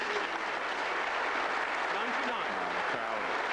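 A snooker crowd at the 1999 World Championship semi-final between Hendry and Ronnie applauds a shot with steady, even clapping, while a commentator talks over it.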